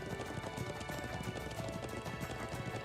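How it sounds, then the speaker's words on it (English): Horse hooves clip-clop in the Trails of Cold Steel 2 video game, a quick, steady trotting rhythm of hoof strikes that keeps going throughout at moderate, close level with no talking. "I'm glad I still remember how to ride a horse."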